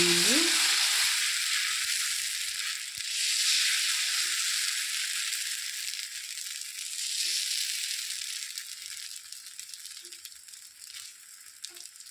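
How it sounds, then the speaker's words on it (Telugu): Pesarattu, a moong dal dosa, frying in oil on a pan, a loud continuous sizzle that hisses strongly at first and slowly eases, with faint scrapes and taps underneath and no talking. "ఇలా వేసేసుకొని చక్కగా రెండు వైపులా కూడా చక్కగా కాల్చుకోవడమేనండి"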